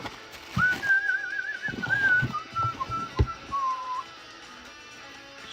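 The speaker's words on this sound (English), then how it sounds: "I'm full whistling into the microphone here like an idiot." Someone whistles a wavering tune close to the microphone, with a few soft thumps and breaths between notes, then fades to quiet.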